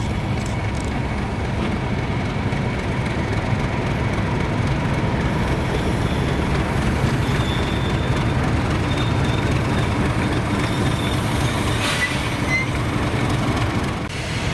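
Class 31 diesel locomotive 31327 rolling into Boat of Garten station on the Strathspey Railway at a diesel gala, giving a steady, moderately loud rumble with wheel and rail noise throughout and no voices.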